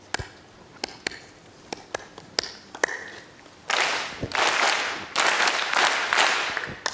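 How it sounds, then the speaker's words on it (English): An audience claps back a rhythm pattern after a leader's clapped example: a few sparse single claps first, then a burst of many hands clapping together in uneven, loosely synchronized waves, fairly loud and without talk. "I'm going to clap a pattern"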